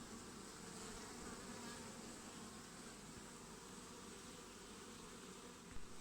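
Steady, dense drone of many honeybees buzzing around an open horizontal hive as a colony is readied for winter in September, continuous and fairly close with no breaks or voices.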